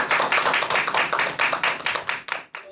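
A lecture hall audience claps warmly to welcome a lecturer on stage, a steady, close wash of many hands applauding for over two seconds before tapering off into quiet.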